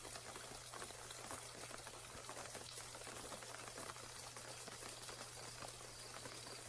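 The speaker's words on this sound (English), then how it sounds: "Let's add some frogs to that rain." Steady ambient rain sound effect with frogs layered in, a dense even patter and hiss running throughout at a soft, constant level, with no voices.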